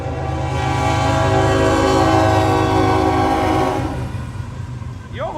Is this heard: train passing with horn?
yes